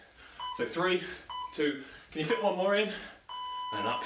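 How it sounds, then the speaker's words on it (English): A workout timer gives short steady electronic beep tones several times, the last a longer held tone, sounding between and under a man's spoken instructions during an exercise set. "we actually have a timer set up, and it gives me a beep notification"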